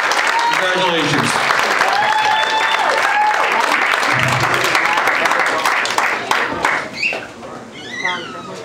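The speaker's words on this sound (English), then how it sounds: "So Liam, let's give Liam a big round of applause" Audience applause fills the room for a departing performer before a final song, a steady dense wash of clapping that tapers off near the end while voices and whistle-like cheers cut through.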